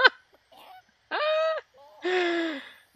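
Chickens in The Sims 4 video game, heard as a few short separate honking, clucking calls with quiet gaps between, close and clear.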